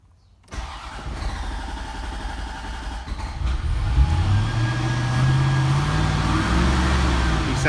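A 1991 Corvette ZR-1 engine cranks, catches and starts, then revs up and settles into a steady, rising run, heard close and loud with no talking.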